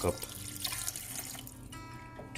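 Water poured into a mutton karahi as it cooks, a steady running, splashing flow close by with faint kitchen sounds around it.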